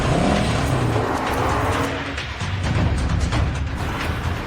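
A car's engine roars and pulls away close by, a steady loud motor rush fading slightly over a few seconds with a brief tyre-scuff texture, no voices.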